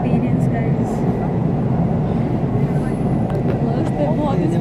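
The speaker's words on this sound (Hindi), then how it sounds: "ये हमारी पहली मेट्रो थी लाइफ की and we were so excited about it" Kolkata metro train in motion, a loud, steady rumble and rushing roar of the carriage throughout, with people talking faintly over it.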